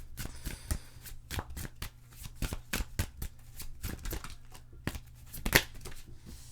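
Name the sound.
tarot cards being handled and drawn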